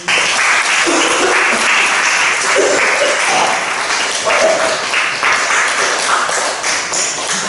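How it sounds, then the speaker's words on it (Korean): A church congregation breaks into loud, sustained applause during a sermon, dense clapping from a large crowd with a few faint voices mixed in. "우리 주님께 영광의 박수."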